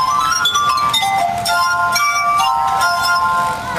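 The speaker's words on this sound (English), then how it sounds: "I had no idea that Mozart and many other composers had written for glass in the 18th and early 19th century" Water-filled drinking glasses played as a musical instrument ring out in clear, sustained pure tones, several notes overlapping and gliding into one another in a steady melodic line with no voices.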